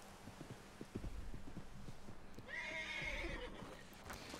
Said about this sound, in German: Oh, zum Glück hört mich mein Pferd.